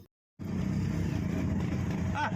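Riding in an owner-type jeep, a steady rumbling engine and road noise close up that starts abruptly after a brief silence and holds constant throughout.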